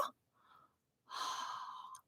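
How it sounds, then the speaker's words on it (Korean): A breathy exhaled H sound like breathing, voiced for a phonics lesson: a short puff, then a longer, louder airy exhale lasting about a second, close and alone. "숨소리를 내네요."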